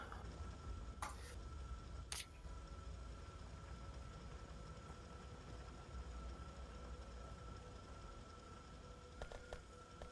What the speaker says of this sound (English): Especially being run over by a train.